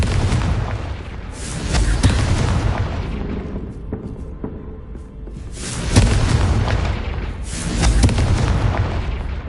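Confringo blasting spell in the Hogwarts Legacy video game, several deep booming explosions rolling in repeated waves with crackling bursts and a continuous rumbling game soundscape between them, loud and close.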